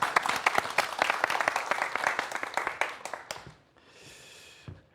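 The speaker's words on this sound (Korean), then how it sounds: "박수 부탁드리겠습니다." Lecture audience clapping at a management and neuroscience talk, a brisk, fairly loud round of individual claps that fades out after about three and a half seconds, leaving quiet room tone.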